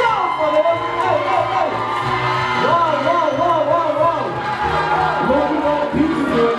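A large crowd shouting and cheering at a school graduation ceremony, many children's voices whooping continuously at a loud, steady level.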